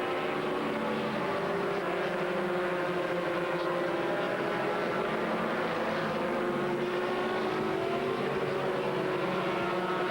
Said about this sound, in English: The Kaiser Racing Porsche of the Canadian pair, Kai Wankum and Greg Doff, and George Silbermeyer, the German driver, just being passed by all three.